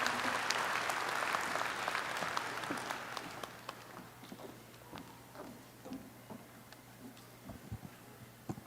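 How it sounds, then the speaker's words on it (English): A crowd applauds at a community college commencement ceremony, with full clapping that fades after a few seconds into scattered, sparse claps and ambient hall noise. "Please give them one more round of applause"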